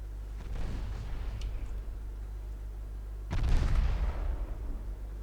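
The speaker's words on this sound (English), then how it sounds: "Are we gonna get a torpedo hit on the enemy cruiser? Yes, we are." A torpedo strikes an enemy cruiser in a naval warfare video game, set in a 1949 Norwegian campaign: one sudden, loud, broadband blast with a rumbling tail over a steady low engine drone, after a quieter distant boom earlier.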